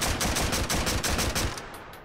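An automatic mag-fed shotgun with a retractable stock, in the VR game Hot Dogs, Horseshoes & Hand Grenades, fires a rapid string of about eight loud booming shots, ending around one and a half seconds before a short fading tail.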